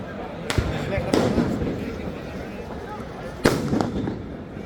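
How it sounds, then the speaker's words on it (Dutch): Several sharp firework bangs burst out at intervals over a noisy crowd-like background at a Valencia street celebration, a couple landing close together near the end. "Massa-explosie."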